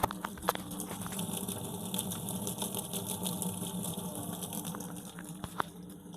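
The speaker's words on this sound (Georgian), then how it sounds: "აქედან მოდის წყალი, ჭის პირდაპირ." Water gushing steadily out of a well at close range in Bakuriani, a continuous broadband rush running through the whole stretch, with a few faint clicks and taps over it and no voices.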